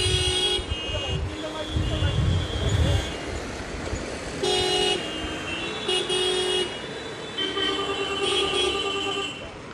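Busy national highway traffic with repeated car and truck horns honking in short toots and longer blasts over a rumbling engine bed, while a reporter talks throughout.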